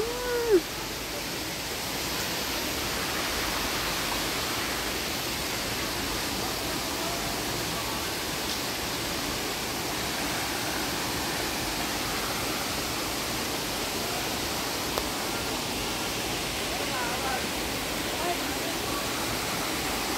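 Pangpang Habog waterfall at Mag-aso, Antequera pours as a steady, broadband roar of falling water, constant and fairly loud throughout with no break.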